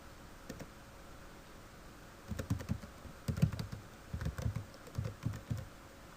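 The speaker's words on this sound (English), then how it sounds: "I'm just going to type in some random numbers here." Numbers are typed on a computer keyboard in a quiet room as a few soft, scattered keystrokes, then several quick bursts of clicking taps in irregular clusters.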